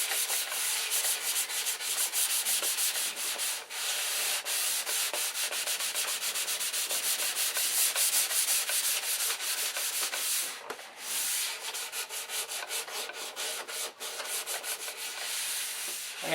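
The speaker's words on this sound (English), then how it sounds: "we'll be sanding that primer down until we can see through it" A soft foam sanding block with 400-grit paper rubs primer on an electric Thunderbolt model airplane, producing a steady, close scratchy hiss in long back-and-forth strokes with brief pauses and no talking.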